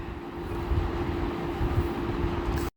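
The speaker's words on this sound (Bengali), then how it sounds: "এই তো মেট্রো রেল এসে গেছে" A Dhaka metro rail train pulling into a station gives a steady, fairly loud rumbling hum with a sustained tone, continuous for a few seconds before cutting off abruptly.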